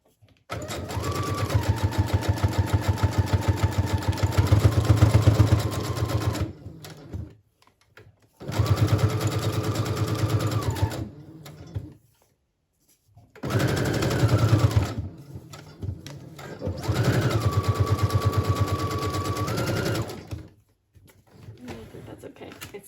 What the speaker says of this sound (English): I'm going to go ahead and sew this together.